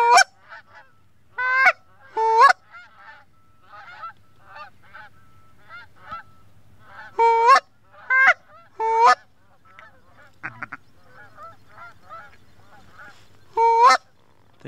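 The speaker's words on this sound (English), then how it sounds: "Those geese are going back." Geese honk in several loud bursts on a hunting morning in New York, calls coming in clusters with short pauses between them, fairly near and carrying clearly over quiet open air with a faint low rumble underneath.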